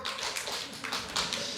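A church audience at a Bible lecture breaks into rapid continuous clapping, a dense crackling patter of many hands at moderate loudness, sustained throughout.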